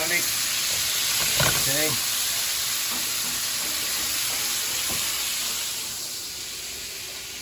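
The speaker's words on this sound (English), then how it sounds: "gonna put some garlic as well. Okay, some fresh garlic." Fresh garlic sizzles in a frying pan for short ribs, a steady broad hiss of frying that carries on throughout, with a brief spoken word over it and some stirring.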